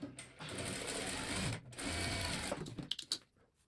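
A sewing machine runs a seam on a bedspread quilt, with two steady, close stitching runs separated by a brief pause, ending in a few lighter clicks and taps.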